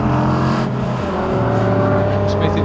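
A 3.9 litre Morgan Plus 8 racing at Knockhill in a 2012 classic sports and saloons meeting, its engine a loud, continuous throaty drone with shifting pitch, under a commentator's voice.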